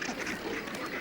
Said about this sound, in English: Tightly packed penguins produce quite a racket.